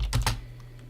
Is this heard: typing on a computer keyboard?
yes